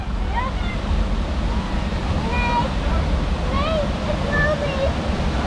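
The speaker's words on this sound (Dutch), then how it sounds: "Recht op de waterval af" The waterfall on the Piranha river-rapids ride at Efteling theme park gives a steady, loud roar of rushing water. High squeals and voices from riders break in over it now and then.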